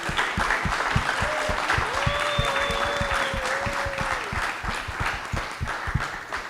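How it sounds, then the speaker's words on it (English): Conference audience applauds panelists at a university main stage in Johannesburg, with steady rhythmic clapping up close over a broad bed of crowd applause and a brief whistle-like tone in the middle. "Let's take the time to thank and applaud for our panelists"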